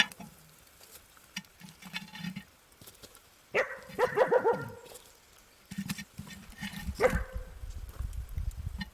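A dog near an outdoor fire where meat and pizza are being cooked barks in two short bursts, one midway and one later, moderately close, with low background noise in between.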